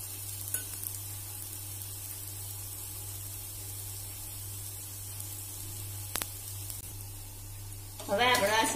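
Oil hisses gently beneath a mixed-flour puda pancake on a hot pan, a quiet, even sizzle over a low background hum with a faint clink midway, before someone begins talking at the end.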